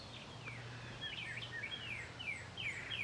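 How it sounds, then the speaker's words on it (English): Pet birds kept indoors sing with a steady run of high chirps and twittering phrases, fairly faint, over a low constant hum. "I hear my birds singing."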